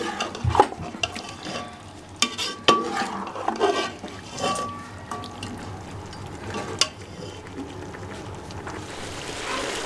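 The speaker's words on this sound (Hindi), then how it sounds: "पंजों को 2 से 3 मिनट मसाले में फ्राई कर लेंगे।" Chicken feet frying in spice masala, with a spoon stirring and scraping the pan in irregular clattering strokes over a low sizzle, close up and without talk.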